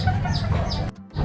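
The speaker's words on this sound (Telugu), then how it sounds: "అడవి కోళ్ళు అనుకుంటా" Wild chickens cluck in a short burst of repeated nearby clucks and calls in an outdoor setting, ending abruptly.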